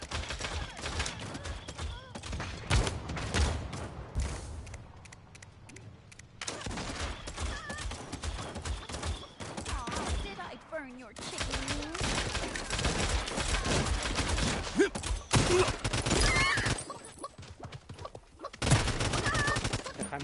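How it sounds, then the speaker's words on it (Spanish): Rapid gunfire rattles through a match of the video game Realm Royale, with dense bursts of automatic shots and volleys repeating for most of the stretch and brief lulls between them. "Tiene unos tiros muy peligrosos."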